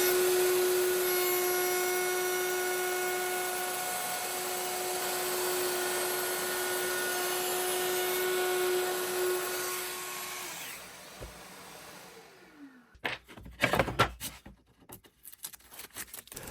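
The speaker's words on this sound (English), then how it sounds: "Then finish off with a bearing guided cutter in a router." A router with a bearing-guided cutter trimming oak and birch plywood drawer parts in a workshop, a steady high whine for about ten seconds before spinning down, followed by a few clunks and taps.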